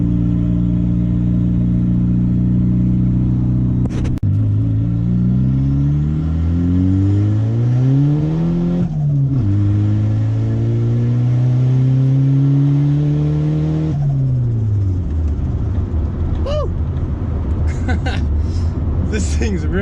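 A turbocharged car with a fabricated wastegate dump accelerates hard through the gears, its engine note climbing in long, loud sweeps broken by shifts, ending with crackles and pops.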